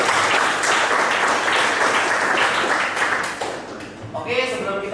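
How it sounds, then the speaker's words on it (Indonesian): Students in a classroom clap together at the end of a lesson, a dense burst of applause that fades toward the end as a voice starts speaking. "Tepuk tangan untuk kita semuanya."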